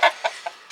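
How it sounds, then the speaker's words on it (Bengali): Chickens in a cage give three short clucks, one loud and then two fainter, close by with nothing else heard. "অনেকদিন পর আসলাম মুরগি খাঁচার সামনে।"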